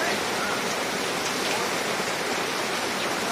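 Rain falls steadily on a Ravana effigy outdoors in Kanpur, a dense, even hiss of drops with no distinct pauses that continues through the whole stretch.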